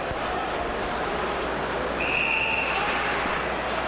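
Referee's whistle at an NHL ice hockey game between the Colorado Avalanche and Buffalo Sabres, blown for icing: a single steady high-pitched tone lasting about a second, heard over a dense arena crowd roar.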